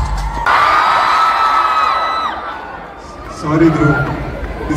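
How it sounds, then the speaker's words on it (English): Crowd cheering and whooping at a youth summit event in Bangalore, with a loud surge of shouts and a sustained tone, dipping and then swelling again toward the end. "Make some noise for him, please"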